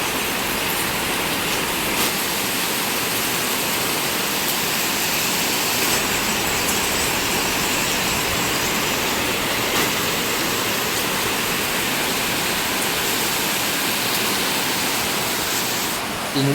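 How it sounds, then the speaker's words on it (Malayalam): Heavy monsoon rain pours down over a flooded house courtyard, a dense, unbroken roar of water that stays loud and close for the whole stretch, with no talking. "ഇങ്ങനെ മഴ പെയ്യുന്ന ഞാൻ പ്രതീക്ഷിച്ചില്ല."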